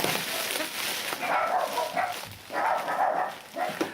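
Several dogs barking and yipping in bursts, a noisy cluster of overlapping barks at moderate distance with brief gaps between them.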